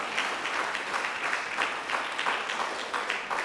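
A church congregation applauds for sixteen graduates, a moderately quiet, even spread of many hands clapping that continues steadily from start to finish without speech.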